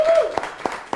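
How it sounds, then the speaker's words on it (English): An audience claps for a boy returning to the front of a room, a brief burst of applause with a few distinct sharp claps standing out as a voice speaks over it. "You guys clap for Jack."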